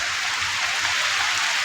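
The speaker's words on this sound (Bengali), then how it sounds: "ঝড়ের মতন বাতাস হচ্ছে" Strong stormy wind blowing with rain, a steady, dense rushing roar that stays loud and even throughout the brief moment.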